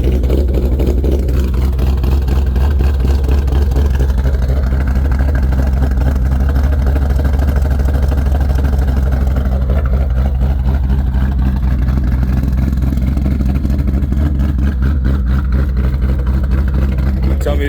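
A 2015-or-newer Ford Mustang GT V8 running a custom tune and ghost cam idles with a loud, steady, choppy low rumble close by. The throttle swells slightly now and then.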